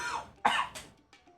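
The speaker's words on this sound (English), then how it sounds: "That was a cough." A single cough during a Yu-Gi-Oh Master Duel livestream, heard as a couple of short, fairly loud bursts close to the microphone, followed by a fainter trailing sound, with no talking.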